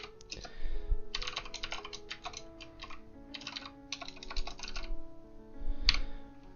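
Computer keyboard typed on while entering code, bursts of quick close clicking keystrokes with short pauses between them over a low steady background hum.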